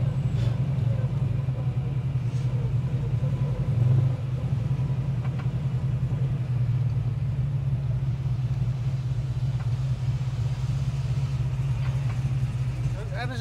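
A 650bhp Ford Falcon rumbles steadily while driving, a deep, constant engine drone with a brief swell near the four-second mark, with people talking over it throughout.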